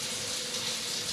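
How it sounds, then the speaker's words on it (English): Water streams steadily from a tap into a pot of washed lentils, a continuous close splashing rush with no talk. "So then we just put water in it."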